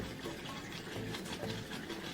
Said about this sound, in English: you put your boiling water into the cup